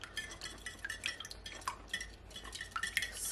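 A whisk beats lime juice into a Jamaican sorrel-flavoured fruit cake batter in a bowl, making quick light clinks and soft scraping strokes in a continuous close rhythm, fairly quiet and without speech.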